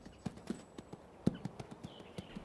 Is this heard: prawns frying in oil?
no